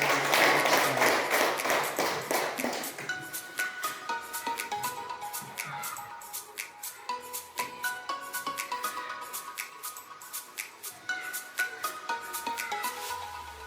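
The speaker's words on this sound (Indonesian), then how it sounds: "Kita berikan tepuk tangan untuk kawan-kawan" Audience applause for fellow teachers at a school morning gathering, with dense clapping at the start that thins into scattered taps and claps while music plays underneath.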